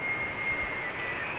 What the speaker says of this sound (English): Delta Airlines, by the way. A330 Neo.